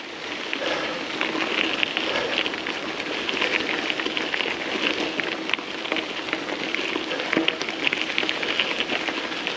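Continuous light, on-and-off rain falling during a mountain bike ride, a dense even patter with scattered louder drops, steady throughout at a moderate level.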